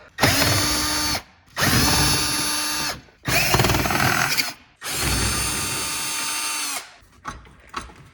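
Power drill removing four screws from a plate on a GE range, four loud close bursts of whirring separated by short pauses, followed by faint clicks and handling noise.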